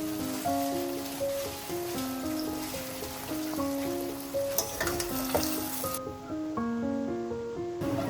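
Okra masala with yogurt, grated ginger and tomato sizzles steadily in a pan over a medium flame while being stirred, a loud continuous frying hiss under tonal background music.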